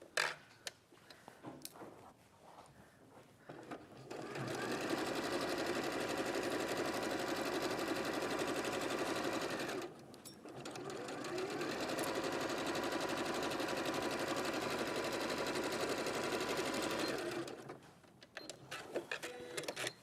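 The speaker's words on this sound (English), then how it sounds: "now I'm going to stitch around the front" A sewing machine stitches around the front of a piece, running in two steady, moderately quiet stretches separated by a brief pause, with faint handling noises at the start and end.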